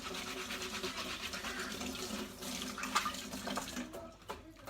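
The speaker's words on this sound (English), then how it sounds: "I'm going to pour them through my sieve that I cleaned first" Milk kefir grains and milk poured through a cleaned sieve, giving a steady close liquid pouring and trickling sound with small splashes, easing off near the end.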